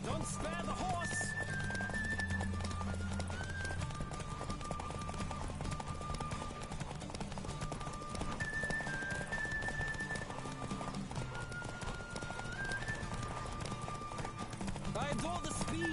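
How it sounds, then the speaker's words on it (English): Rapid hoofbeats of a galloping horse in The Witcher 3 game keep an even, driving rhythm throughout, mixed with background music and spoken lines from a character. "Don't spare the horse!"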